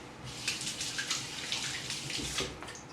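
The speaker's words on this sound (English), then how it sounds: "we've got our water boiling here" A pot of water at a rolling boil for poaching gluten-free herb and cheese bagels, giving a steady, close bubbling and hissing wash with small splashy bursts throughout, no talking.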